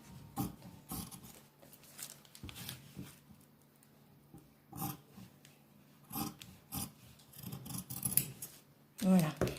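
Scissors snip through fabric being cut out for a homemade face mask, a run of close, crisp cuts with soft rustling between them and a voice talking at times.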